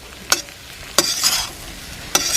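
Beef and vegetable stir fry with spring onion and capsicum being stirred in a pan, giving a few sharp scraping strokes over a steady background sizzle, close and alone without talk.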